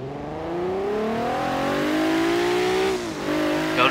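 Loud, close engine roar of a Jeep Wrangler off-road build in Forza Horizon 3, rising steadily in pitch through one long pull before a quick dip at a shift near the end, alone without voices.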